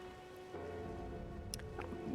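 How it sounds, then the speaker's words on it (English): Steady rain falls in Elden Ring near Castle Morn, a soft continuous patter at low level, with faint droplets and no speech. "Also, it's been raining forever."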